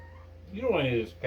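A cat gives a single short, rising meow indoors in a kitchen, close and fairly clear, followed by a brief quieter sound.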